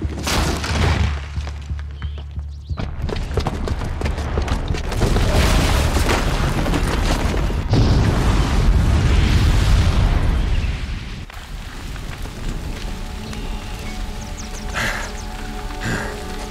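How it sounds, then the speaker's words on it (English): A booby-trapped bomb detonates in Horizon Zero Dawn, a heavy sustained boom with rumbling low-end debris that swells loudly for several seconds, then settles into a quieter crackling aftermath with a faint tonal hum. "the booby trap on the bomb downstairs is gonna get set off"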